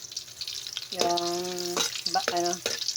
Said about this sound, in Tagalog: Medyo pa pula-pulahin natin yung bawang.